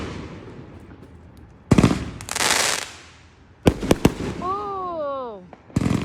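Backyard fireworks set off by neighbors: loud sharp bangs and crackling bursts, several separate blasts followed by a whistling, rising-and-falling shriek, with voices talking between the explosions.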